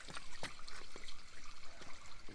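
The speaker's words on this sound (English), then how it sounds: "I'm just flushing it through with clean water" Clean water flushes through an RV waste tank, a steady sloshing and trickling rush with small splashes, close and continuous.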